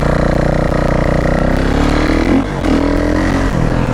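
Kawasaki KX 450 dirt bike engine held at a steady, loud, close drone, with a brief throttle surge partway through as a wheelie is attempted.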